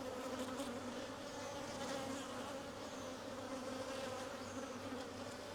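A dense, steady buzz of many honeybees fills the air close by during a hive inspection, continuous and droning with no voices.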